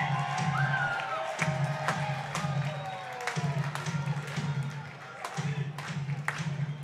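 Baseball crowd at a minor league game between the Sabre Dogs and Trappers cheers and claps rhythmically in the stands, a steady lively wash at a distance with a low periodic drone and a voice talking over it.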